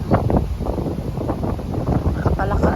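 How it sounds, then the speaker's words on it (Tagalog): Strong, cold amihan monsoon wind buffets the microphone in a steady broadband roar, gusting throughout while people talk over it. "Kasi lakas ng hangin. Ang lamig."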